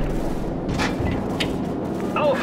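Gunfire from a Call of Duty 4: Modern Warfare battle scene, with sharp bursts and booms over a dense, constant background of combat noise, no clear talk.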